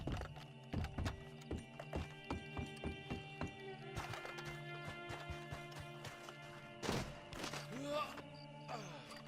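Horse hooves clop in a steady rhythm in the video game Red Dead Redemption Online, slowing and thumping irregularly, with a brief whinny and some scraping clatter near the end.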